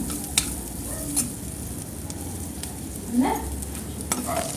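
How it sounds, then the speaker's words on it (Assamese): Ingredients for Assamese khaar stir-fried in a pan with a pinch of chilli powder, a steady close sizzle broken by sharp scraping and clinking stirs at irregular intervals, with no voices. "এইখিনি অলপ সময় ভাজি ল'ম।"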